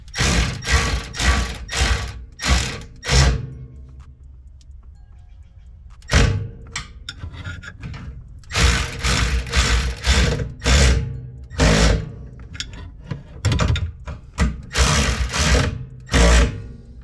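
A hand ratchet tightens bolts during a fuel pump replacement on an SC300/SC400, rapid close metallic clicking in repeated bursts, broken by a short quiet pause before the clicking resumes in quick runs.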